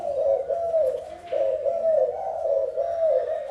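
A spotted dove coos in a repeated rolling phrase, close and clear, with a soft throaty warble and no voices.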